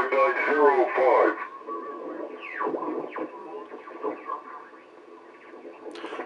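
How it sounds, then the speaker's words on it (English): A Puerto Rican shortwave station comes in on a Hammarlund HQ-170 receiver as faint, hissy broadcast audio with a voice and music smeared by static, crackle and fading, under a steady background hiss. "Here's a Puerto Rican station."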